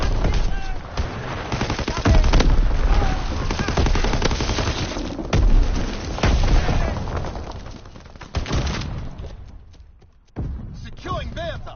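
Heavy gunfire and explosions in Call of Duty WW2 during enemy bombing and artillery, with rapid machine-gun bursts and booming blasts churning continuously and loudly, thinning out briefly near the end before another hit.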